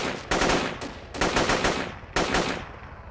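Machine gun fire in the Battlefield video game: three loud, close bursts of rapid automatic shots, each cut short by a brief pause.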